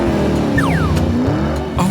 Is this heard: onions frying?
no